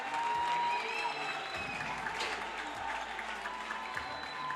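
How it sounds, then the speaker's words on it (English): A crowd applauds at the WSF Under-23 World Championships squash finals, a dense, steady clapping that opens loud and stays busy throughout, with a commentator talking over it. "And there's the crowd again"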